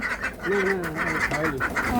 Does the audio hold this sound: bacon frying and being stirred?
no